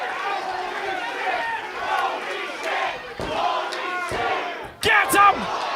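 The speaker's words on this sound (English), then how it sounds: "You can hear this crowd." Wrestling arena crowd roaring and chanting at a live event, a dense, continuous wall of massed voices with swells and shouts, a sharp burst of cheering near the end.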